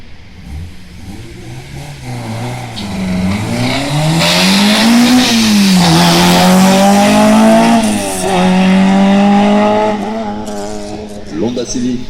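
A Volkswagen Golf 1 race car in the 1601 to 2000 cc class launches at a hill climb, its engine climbing through several hard upshifts with a rising, falling howl and tire squeal, loud and near, then fading away.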